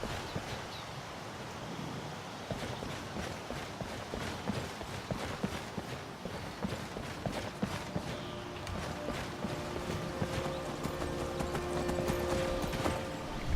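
Rapid, rhythmic hoofbeats of a horse galloping in the video game Skyrim, steady and close, with a soft rustling background that grows slightly louder toward the end.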